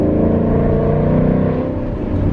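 A 2019 Mustang GT with a JLT intake and Lund tune accelerating, its V8 engine roaring loud and close in a steady, continuous pull with no voices over it.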